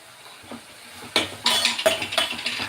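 Chopped tomatoes for a potato kurma are stirred and sautéed in a pan, with a spoon scraping and clinking against the metal in a few distinct strokes over a low background hiss.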